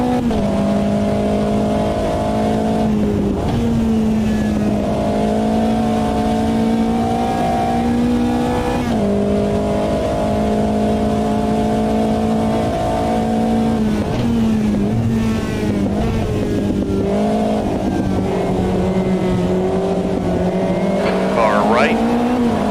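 A race car engine in the AMS2 sim racing game drones loudly and continuously, its pitch climbing and dropping through repeated gear changes and lifts, while a voice talks over it.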